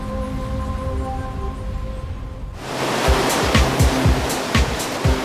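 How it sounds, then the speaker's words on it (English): Powerful ocean waves surge and crash in a loud, continuous wash of surf, with sharp splashing bursts breaking through after a quieter opening, no voices heard. "Some even have gone as far as riding the killer waves."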